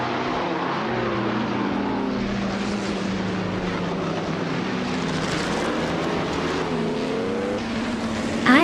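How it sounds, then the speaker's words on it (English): A 1951 Alfa Romeo 159 racing car's engine sounds throughout a race, a steady loud roar with shifting pitch as it and other cars pass, continuous and with no talk. "Cover is driving an Alfa Romeo 159 from 1951"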